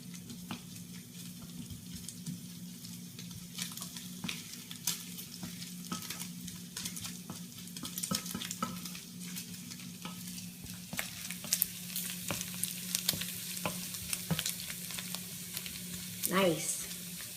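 Continuous sizzling of brussels sprouts in a hot pan, with frequent light scrapes and taps of stirring throughout, growing a little busier toward the end.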